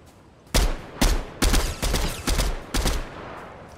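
Rapid gunfire in Fortnite Battle Royale Season 19, a burst of about five or six loud, sharp shots at uneven intervals over a quiet game background.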